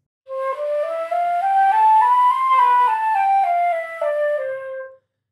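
Flute played with an airy, breathy tone, a slow stepwise melody rising and falling over about five seconds with breath noise audible on top, alone and fairly close.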